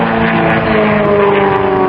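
A piston aircraft engine drones loud and steady with a smooth, sustained tonal hum at an East Kirkby air show, close and unbroken throughout.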